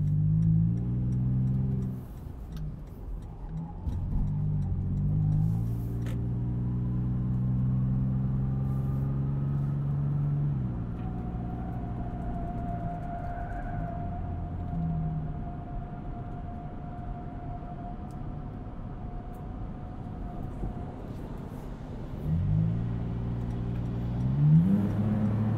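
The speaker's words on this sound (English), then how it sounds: "Let's get up on the highway here and hear what the 4Runner sounds like at speed." A 2020 Toyota 4Runner driving at highway speed, heard from inside the cabin: a steady low engine drone with shifting harmonic tones, road and wind noise, a faint whine mid-clip and revs rising near the end.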